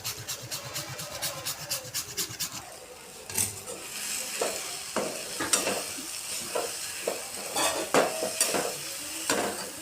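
Tempering of mustard seeds and jaggery is stirred into quick raw mango rice, with steady scraping and rubbing of a spoon in the pan, a faint sizzle and a few sharp clicks against the vessel.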